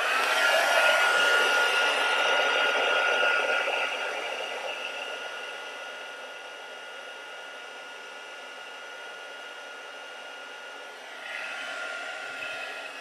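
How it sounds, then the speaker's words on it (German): Hair dryer running steadily to heat embossing powder on a Stampin' Up! New Year card, a loud broadband whoosh that eases back partway through and then swells again near the end, with no talking. "Ich lasse wieder den Föhn ein bisschen vorheizen."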